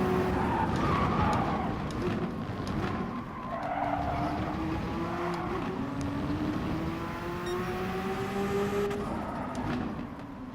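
Porsche 962 race car in a racing video game braking hard, engine pitch sweeping down and up with tire skid noise, loud and continuous throughout with no talking.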